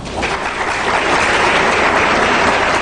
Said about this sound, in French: Des applaudissements polis